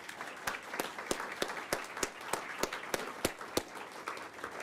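Applause for an award winner at a school board of education meeting, a modest, fairly faint round of clapping with a few distinct sharp claps beating steadily over a soft background.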